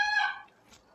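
Pet parrot giving a short, harsh squawk close by, a single loud call that fades into quiet with a faint trailing sound.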